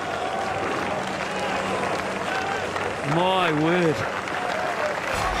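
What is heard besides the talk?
cricket crowd groaning at test match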